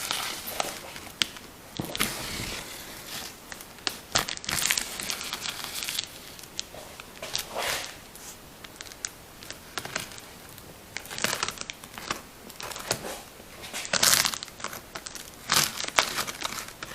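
A cardboard box for an adult trike is opened by hand after its tape is slit with a small razor blade, giving close, continuous crinkling, tearing and rustling of cardboard and packing, with brief louder rips scattered throughout.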